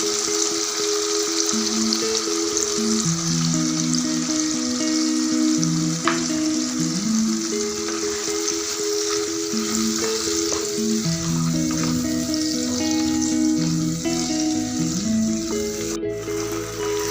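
Mustard paste hits hot oil in a kadai already holding fried tomatoes and nigella seeds, giving a continuous loud sizzle. It runs steadily throughout beneath melodic background music.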